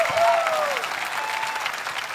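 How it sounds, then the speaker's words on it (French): Applause from a church audience at a Christmas celebration, a dense steady patter of clapping lasting a couple of seconds, with a faint voice and a sliding tone near the start. "Applaudissez Noël!"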